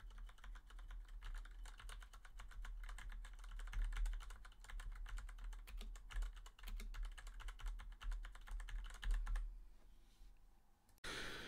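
Steady clatter of typing on a mechanical keyboard, picked up through a HyperX Quadcast microphone, with dense rapid keystrokes running for about ten seconds before stopping abruptly.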